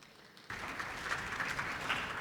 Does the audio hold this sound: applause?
yes